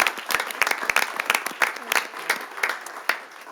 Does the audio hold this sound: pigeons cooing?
no